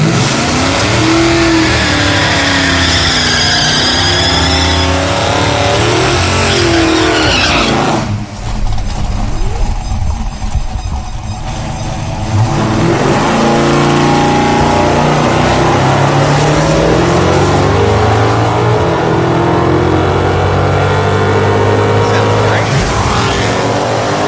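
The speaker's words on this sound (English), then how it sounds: "2 passes in a row all the way down the drag strip with no fire" A 1969 Pontiac Firebird makes a full drag strip pass, its engine roaring loud and close as it revs hard through rising gear pulls, easing briefly midway before building again to the end.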